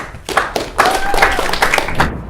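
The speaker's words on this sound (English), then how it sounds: "Clapping is in order." Students at a model congress session clap briefly after a bill passes: a short, close burst of scattered handclaps with a few thuds, lasting only a couple of seconds.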